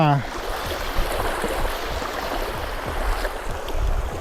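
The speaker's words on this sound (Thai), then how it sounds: "น้ำไหลแรงไหลแรงครับ" Strong-flowing river water rushing through the rapids at Kaeng Lan Rak, a steady, broad roar of current close by that holds an even level throughout, with a brief voice right at the start.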